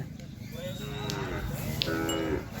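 Cattle and buffalo at a village livestock market in Nong Kham, Khon Sawan, Chaiyaphum, Thailand; a few moos and low calls rise over constant crowd chatter and outdoor bustle.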